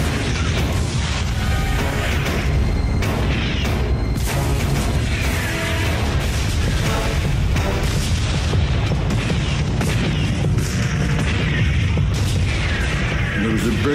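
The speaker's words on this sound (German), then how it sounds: "Operation Overlord beginnt mit einer gewaltigen Kanonade und massiven Luftangriffen" Naval guns and artillery pound the Normandy coast during the Operation Overlord bombardment, a relentless barrage of heavy booms and blasts rolling one over another, loud and close throughout.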